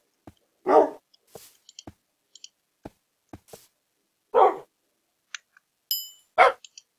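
Dogs in a survival video game bark in a handful of short, separate bursts, loud and close, with scattered soft clicks and game noises between them and no talking.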